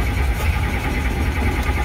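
A Robinson R44 Raven II helicopter engine during startup, with a steady, loud mid-low engine drone running continuously and evenly throughout, no voices over it.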